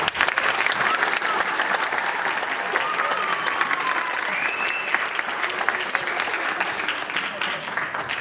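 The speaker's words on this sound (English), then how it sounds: "Let's give them a round of applause." Sustained applause from an audience at a school winter concert for sixth-grade singers, dense clapping at a steady level throughout, with a few faint whoops over it.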